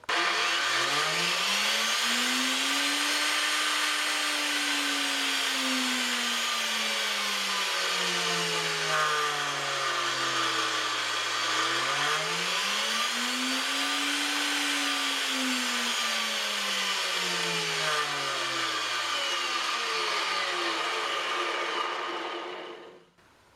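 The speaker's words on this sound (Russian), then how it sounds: "как изменяет обороты наш фрезер" Homemade router for shaping oak barrel staves, run through a bought speed regulator, whines steadily and loudly, its pitch sliding down, rising again, then falling away before it cuts off.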